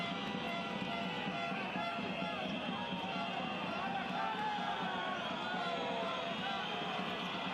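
Fans at a basketball playoff game between Reggio Emilia and Zenit fill the arena with a constant, roaring wall of crowd noise, steady and loud throughout with babble and distant shouts blended in.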